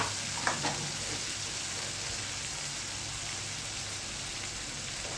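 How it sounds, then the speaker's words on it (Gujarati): Tomatoes sizzle in hot oil during a tempering, a soft, steady crackling hiss heard up close, with a couple of small pops at the start and no talking. "આ ટમેટા નાખો."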